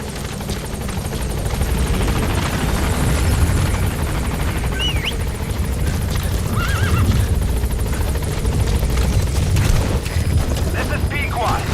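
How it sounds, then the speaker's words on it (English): A support helicopter arrives in Metal Gear Solid 5, its rotor chopping loudly and continuously, with whinnying horse calls and brief voice fragments layered over the engine drone. "Support helicopter has arrived"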